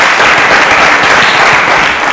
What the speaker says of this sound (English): A round of applause for one day.